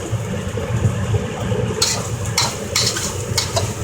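Rice cakes stir-fried in an unseasoned wok with green onion, a continuous close sizzle broken by sharp metal spatula scrapes and clatters against the wok.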